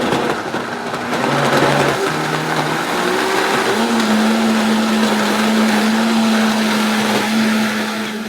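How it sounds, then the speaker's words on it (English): A large blender whirs steadily through a healthy smoothie, its motor pitch rising and settling as the contents churn, loud and close with no talking throughout. "if you guys want to see if this will actually blend"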